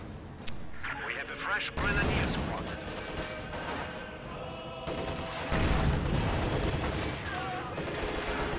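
A video game battle rumbles with heavy mortar blasts and rattling gunfire in dense overlapping bursts, while a commentator talks throughout.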